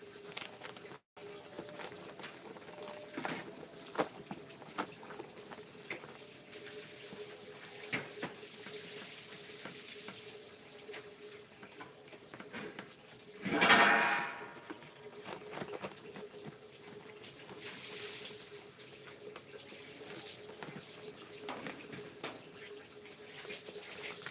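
Kitchen tap water running while rinsing during rice preparation for steaming: a faint, steady stream with a brief louder splash midway and soft crickets in the background.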